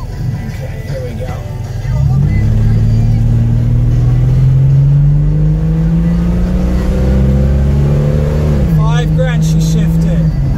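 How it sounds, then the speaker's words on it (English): A one-owner 1972 Ford Capri V6 accelerating on a quiet road, heard from inside as a loud engine drone climbing steadily in pitch, then a brief break for a gear shift before it pulls again, with a voice briefly at the end. "Just do a little acceleration here."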